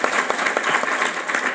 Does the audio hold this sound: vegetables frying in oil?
no